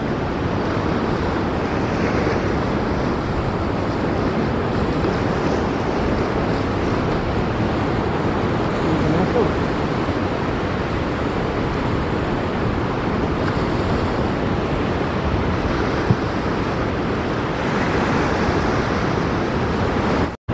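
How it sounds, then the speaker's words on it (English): Salt water surging with the tide into the St Lucia Estuary, rushing hard into the back of the reeds; a steady, loud broadband roar of churning water with wind buffeting the microphone, continuous for the whole stretch with no talk. "Tidal surge is pushing the salt water hard into the back of the reeds."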